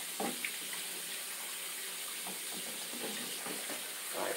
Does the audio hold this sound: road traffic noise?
no